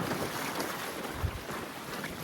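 Strong, cold wind blowing at sea where anglers are fishing, a constant rushing roar with buffeting on the microphone and low gusty thumps.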